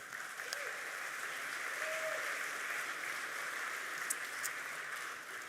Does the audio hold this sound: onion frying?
no